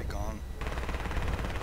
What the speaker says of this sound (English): Fire machine guns, guys.